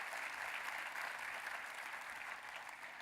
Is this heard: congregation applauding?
yes